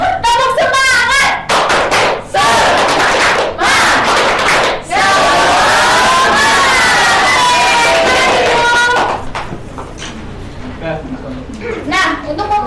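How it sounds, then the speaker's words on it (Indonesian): An elementary class performs a rhythmic spirit clap, with sharp bursts of group clapping, followed by loud shouted group cheering and chanting that fades into scattered voices near the end. "kita tepuk semangat"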